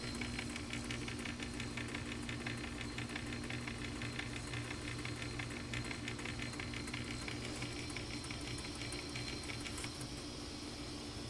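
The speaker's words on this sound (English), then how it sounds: "my motor's getting a little warm. I don't want it to get too hot" The motor of a 1951 Revere T-100 five-inch reel-to-reel tape recorder runs steadily after lubrication, a faint, even mechanical hum with a fine rapid buzz and slight rattle, continuous throughout.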